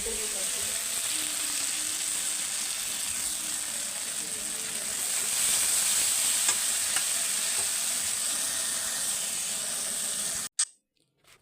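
Poppy seed and cashew paste frying in a pan with paneer curry filling and whole spices, a continuous close sizzle and hiss with faint stirring scrapes, cutting off abruptly near the end.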